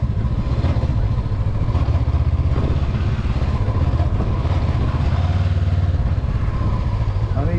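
Honda CB500X (2022) motorcycle ridden in second gear, a steady loud engine drone with low mechanical rumble and some clatter throughout, heard up close with wind noise.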